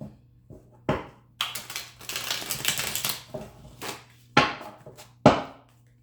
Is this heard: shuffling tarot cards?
yes